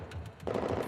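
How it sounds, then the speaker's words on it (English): Rapid automatic gunfire from the video game Girls Frontline fires in a quick rhythmic burst of evenly spaced shots, loud and close, and grows denser toward the end of the brief moment. "Gunshots follow their footsteps."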